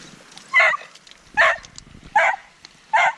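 A dog barks four times in evenly spaced, loud, close single barks while out on a game of fetch during a Lake District wild camping walk.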